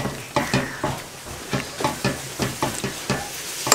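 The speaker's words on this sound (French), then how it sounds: "On va mélanger. Et on va laisser cuire ça." A spoon stirs a thick broccoli soup in a pot with a steady rhythm of repeated scraping strokes, about two each second, loud and close. Nobody talks.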